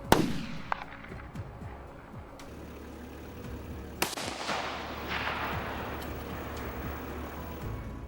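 Rifle shots ring out at night during a kangaroo hunt with spotlights and scoped rifles, several sharp cracks spread across a steady low rumble of outdoor background noise, one near the start and another loud one midway.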